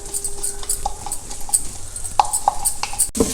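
Broken rice being stirred in ghee inside a pot, with a spoon scraping and clinking against the metal in a steady run of close, light strokes and taps.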